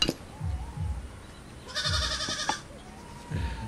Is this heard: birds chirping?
no